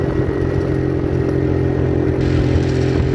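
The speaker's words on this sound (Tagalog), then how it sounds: "Nahirapan yung maliit naming motor dito sa paahon na to." A small motorcycle engine labours up a steep uphill road, its steady mid-pitched drone straining continuously and loudly throughout, with a faint rattle of clatter and no talk.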